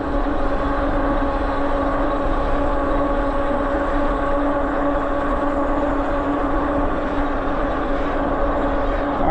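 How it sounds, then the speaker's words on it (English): A HiKnight H6 all-wheel-drive electric scooter's motor runs with a loud, steady whine and a broad rush of wind and road noise, holding an even level throughout with no break. "You can hear the motor rev up."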